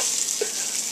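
Sausages sizzle in a frying pan, a close steady crackling hiss with a brief sputter partway through, no talking over it.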